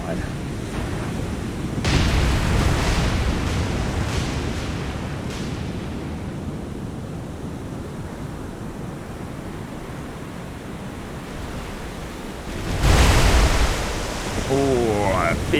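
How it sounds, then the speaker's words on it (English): Naval shells from a War on the Sea battle crash into the ocean, a heavy rushing splash surging up twice over a constant roar of sea and wind noise. "Oh, a big splash."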